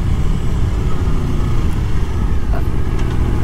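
An Aprilia Tuono motorcycle engine rumbles steadily at idle, loud and close, its low exhaust throb constant with no talking.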